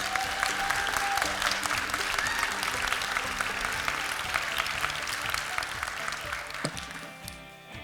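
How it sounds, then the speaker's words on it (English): A large award ceremony audience breaks into sustained, dense applause that stays loud and even for several seconds before tapering slightly near the end. "So another round of applause for Jen, please."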